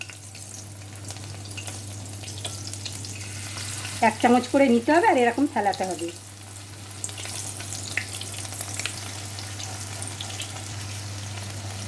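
A faint, steady sizzle of battered chicken cheese kebabs frying slowly in hot oil runs under a voice that speaks in short bursts partway through, with occasional soft clinks.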